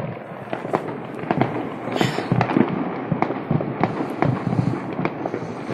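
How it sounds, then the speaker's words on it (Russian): Christmas fireworks going off all around a neighborhood at night, loud repeated bangs and crackling bursts, some near and some farther off, in an irregular rapid barrage. "Это что, шоу салютов, Кость?"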